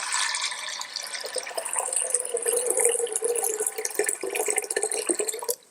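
A kitchen tap runs steadily into a pot being filled for homemade dog food, a continuous splashing rush of water with small drips and gurgles that stops abruptly at the end.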